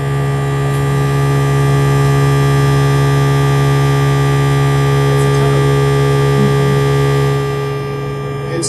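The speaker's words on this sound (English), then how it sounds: "It's kind of an interesting tone because it's like a triangle wave, but then it's got some sine wave being mixed into it" Synthesizer oscillator playing a high tone, a triangle wave blended with a sine wave and wave folding, used at a Detroit techno workshop; a steady sustained drone with bright upper harmonics, loud and continuous for the whole stretch with no talking.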